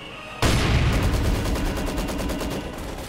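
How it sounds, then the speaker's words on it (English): Machine gun squad fire in Company of Heroes 2 bursts in suddenly and loud, a dense rattling stream of rapid shots with booming battle noise underneath, continuing without pause and with no voices. "MG squad reports again."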